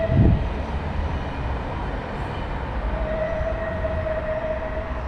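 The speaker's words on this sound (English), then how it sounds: "That's the train behind me." A train passes close behind, its steady rumbling roar of rolling wheels and rail noise carrying a sustained metallic whine, loud and continuous throughout.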